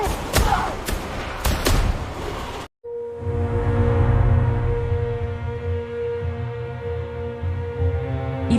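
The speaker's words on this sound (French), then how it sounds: "Puis, une violente explosion touche leur maison." A sharp burst of crackling impacts cuts off abruptly, then a deep, rumbling boom swells and lingers with a sustained low roar and ringing tones.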